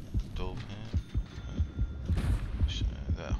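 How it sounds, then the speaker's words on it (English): A throbbing heartbeat in the underwater shark survival game Depth, set off by a nearby shark, thumps steadily in pairs under a low hum while someone talks over it. "That heartbeat is because of the shark."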